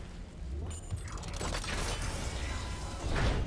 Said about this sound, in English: Let's get the elevator.